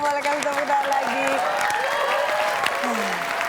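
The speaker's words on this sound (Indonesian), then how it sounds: "Oke, boleh kasih tepuk tangan lagi." A studio audience at a television quiz show breaks into loud, dense applause, with a few scattered cheers and a voice briefly sounding through the clapping.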